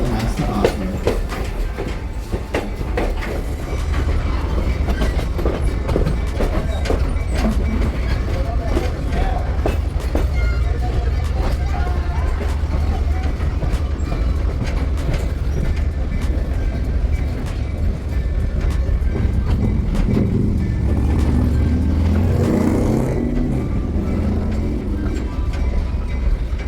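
Heritage train ride in Jim Thorpe, Pennsylvania, with a loud continuous rumble of rolling railcars and rhythmic clickety-clack of wheels on track, sustained throughout, with some voices faintly mixed in.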